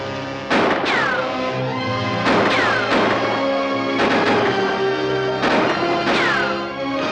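Gunfire in a western film, with a series of loud, sharp gunshots in spaced pairs and clusters, each followed by a ringing, descending ricochet-like tail.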